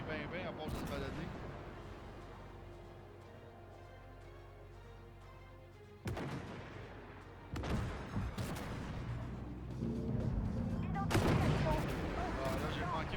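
M113 armored vehicle firing in the tank game Armored Warfare, several sharp gunshot blasts with ringing tails spread across the stretch, under steady engine rumble while someone talks in French.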